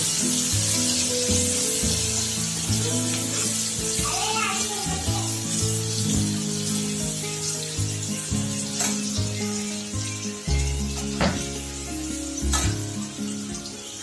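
Onion browning in a hot pan while preparing a spicy chicken curry, a steady loud sizzle and crackle running throughout, with someone talking over it.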